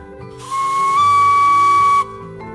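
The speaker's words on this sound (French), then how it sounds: "La locomotive à vapeur peut filer sur les rails de l'Indre." A steam locomotive on the Indre line near Écueillé station blows its whistle at departure, a loud sustained hissing shriek of about one and a half seconds that starts abruptly and cuts off sharply.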